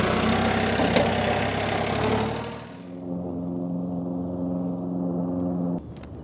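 A tractor engine runs at a loud, steady rumble, then drops to a lower, smoother idle before the sound cuts off sharply near the end, with no talking.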